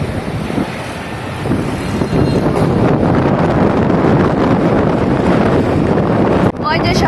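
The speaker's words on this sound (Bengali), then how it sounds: "যেই বাতাস!" Strong gusting wind before rain in Chittagong buffets the microphone with loud, continuous roaring rumble throughout, with no clear speech.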